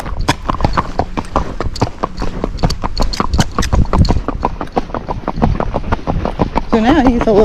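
Steady, rhythmic hoofbeats of a gaited Kentucky Mountain Horse walking, an even four-beat clatter close by, with a voice talking over it near the end.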